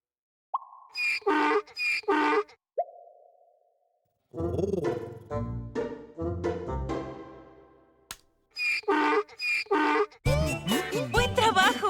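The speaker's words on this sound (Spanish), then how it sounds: "Es el sonido que hace un burro." Donkey braying in a children's animal-sound matching game: short, strongly tonal braying bursts repeat at the start and return near the end, with a cheerful voice in between.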